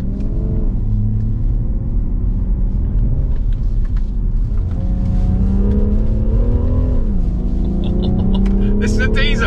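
A 2021 BMW M340d Touring diesel accelerating hard, its engine note rising loud and steady with gear changes audible as dips in pitch, someone talking over it throughout.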